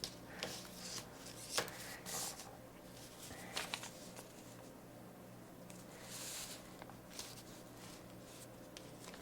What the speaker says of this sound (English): I'm going to mark on the zipper exactly where these line up.